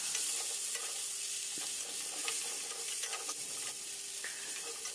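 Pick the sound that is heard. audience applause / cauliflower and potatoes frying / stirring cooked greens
cauliflower and potatoes frying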